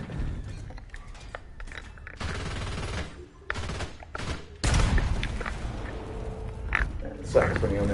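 Heavy tank cannon fire and mechanical clanking from the video game War Thunder, with loud booming blasts and rumbling engine noise between them while someone talks over the action.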